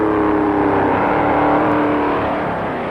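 1957 Pontiac stock cars racing on the Daytona Beach course, with engines roaring in a steady, dense drone that stays loud and unbroken throughout and sounds like several cars running together at speed.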